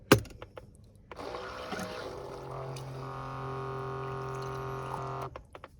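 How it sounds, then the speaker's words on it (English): Water runs steadily into a mug in a van kitchen, a continuous close pouring hiss that starts after a brief clatter and rises slightly in pitch as the mug fills, then stops. "So I just filled my mug with water."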